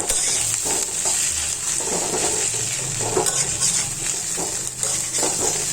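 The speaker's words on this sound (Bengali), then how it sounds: "এই যে এবার আমি দিয়ে দেবো পেঁয়াজ রসুনগুলা, দিয়ে আমি জাস্ট এর সাথে মিলিয়ে নেব।" Onion and garlic being stirred into a hot frying pan for a taro flower (ghatkol) dish, with a steady sizzle and scraping of the spoon in loud, irregular strokes throughout.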